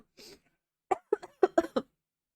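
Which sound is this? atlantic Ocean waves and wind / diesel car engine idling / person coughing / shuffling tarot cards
person coughing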